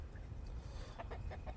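A chicken or rooster gives a short run of soft, quick clucks, faint and a little distant, over low background rumble.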